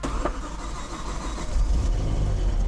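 A damaged BMW M6 with a V10 engine idles roughly just after being started, a loud, close, uneven low rumble that swells slightly midway.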